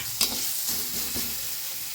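Ginger garlic paste fries in a very small amount of oil, giving a close, steady sizzle. A sharp clink comes early, then softer stirring scrapes follow.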